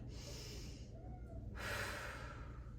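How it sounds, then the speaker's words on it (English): A deep breath during a yoga class: a soft, airy inhale followed by a slow exhale, close and quiet over low background hum. "One more breath."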